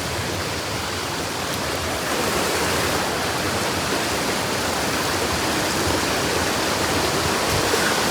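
Water pouring at Olagode Falls in Matte forest, a dense, constant rushing roar that swells slightly louder partway through and carries on unbroken.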